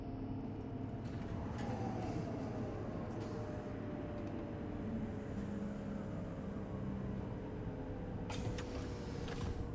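A tram in the Star Citizen game pulls into a station, a low steady rumble with a faint whine sliding downward as it slows, fairly quiet throughout.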